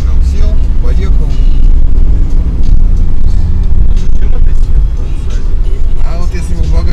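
A Mercedes G63 AMG drives along a road, its engine and tyre noise forming a loud, continuous rumble beneath someone talking throughout.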